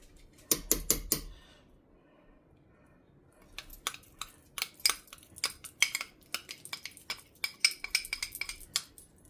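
A spoon clinks and scrapes against a metal pot of meatball chili, a brisk burst of knocks at first, then a long run of irregular taps and scrapes, close and fairly quiet, with no talking.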